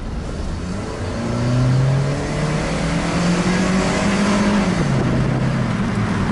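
Toyota Fielder car accelerating hard on a test drive, a steady engine drone rising in pitch through the gears, loud and close with continuous road noise and no talking.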